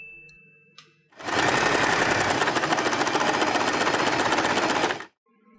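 A sewing machine runs a steady, fast, close stitching burst for about four seconds through folded fabric for a headband center bow, starting and stopping cleanly with quiet moments on either side.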